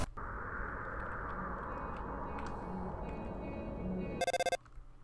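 In Undertale, a phone ring arrives as a short, rapid burst of bright electronic beeps near the end, following a quiet stretch of steady background game sound.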